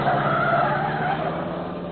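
Car tyres skid and squeal as a car turns in a radio drama sound effect, one sustained screech over a rumbling engine, loud and close, with no voices.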